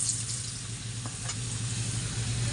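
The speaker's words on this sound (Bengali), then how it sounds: "আর এখানে আলুটা ভাজা চলছে।" Potatoes frying in oil in a pan until browned: a constant close sizzle and crackle over a low hum, with a couple of faint stirring taps and no talking.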